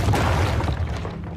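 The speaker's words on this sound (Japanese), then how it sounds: "キラークイーンの爆弾がこいつから離れた途端爆発した。" Killer Queen's bomb explodes in the JoJo's Bizarre Adventure: Diamond Is Unbreakable anime: a loud, close, broadband blast that fills the moment and then slowly decays over about a second and a half.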